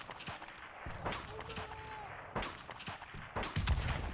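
Sharp rifle shots crack out in a Modern Warfare Remastered hardcore search-and-destroy match, several separate reports spaced irregularly across a few seconds at moderate level.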